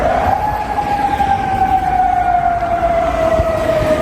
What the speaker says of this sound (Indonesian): sirene peringatan berbunyi di Amman, Yordania